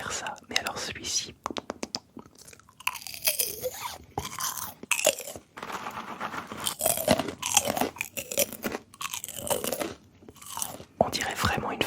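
Popcorn made from an ancient corn variety crunches loudly and closely in repeated bites and chews, with soft whispering woven through the munching.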